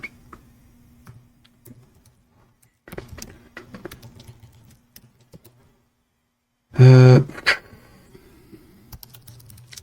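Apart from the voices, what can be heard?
typing on a computer keyboard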